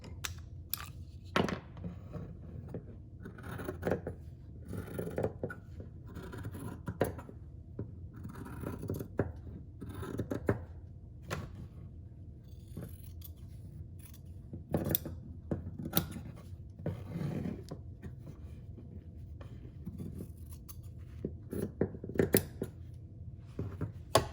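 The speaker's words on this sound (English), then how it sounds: "I'm going to cut this out." Scissors cutting out fabric pieces for a child's cloth face mask, a long run of crisp snips and rustling fabric close by, uneven in rhythm, with no voices.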